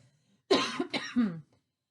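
A person coughs three times in quick succession, close and fairly loud, then silence.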